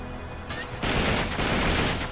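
Gunfire in Uncharted 3: Drake's Deception, starting softly and then breaking into a loud, dense burst of rapid shots that continues to the end, with no talking.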